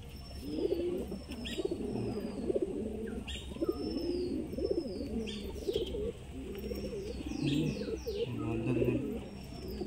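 Pigeons kept as fancy birds at Diamond Harbour coo steadily and overlap one another, with thin chirps and wing flutters scattered above the continuous low cooing; no voices.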